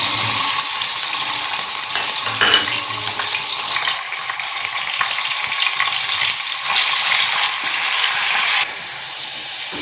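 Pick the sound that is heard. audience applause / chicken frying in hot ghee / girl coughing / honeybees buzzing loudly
chicken frying in hot ghee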